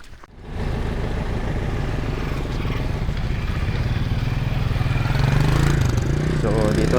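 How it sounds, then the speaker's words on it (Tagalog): Motorcycle engine idling close by after a ride through typhoon-damaged streets, a steady low rumble running throughout with faint background noise. "So dito na natin iniiwan yung motor natin."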